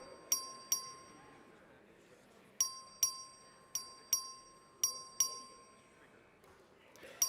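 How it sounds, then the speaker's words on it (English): Inside the Texas House chamber, the clerk's voting bell gives a series of bright, ringing metallic dings, about ten struck at irregular intervals, each decaying quickly, fairly close over a low room hum. "The clerk will ring the bell."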